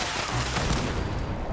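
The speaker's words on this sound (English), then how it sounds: "For this turret, just 1 rocket to take it out." A rocket blast destroys a turret in Fallout 76, a dense roaring explosion that rumbles loudly and continuously across the short stretch with no talk.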